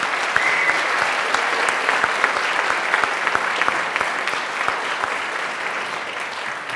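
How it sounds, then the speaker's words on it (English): An audience applauds at a school spring band concert, a dense, steady clapping close by that fades slightly toward the end. "Let's give Mr. Field a round of applause."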